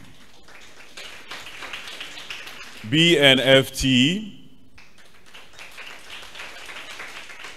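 Audience applause for the sponsors at the Excel Our Girls Season II graduation and low-code app development competition, a steady crowd clapping wash before and after a brief louder voiced passage.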